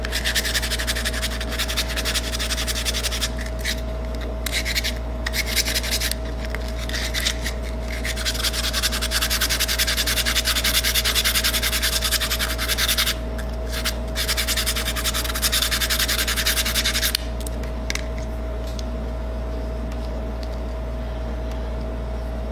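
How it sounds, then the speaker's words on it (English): A small wooden ring cut from a layered skateboard deck is sanded by hand, giving a steady close rasping rub with brief pauses and a constant low hum underneath. "I guess I have to sand it down a little more."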